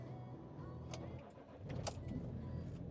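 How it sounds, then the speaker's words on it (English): A Land Rover Discovery 3 TDV6 diesel engine cranks and catches in winter cold, settling into a quiet, steady idle recorded from a short distance with no talking. "the Discovery is the car that always starts"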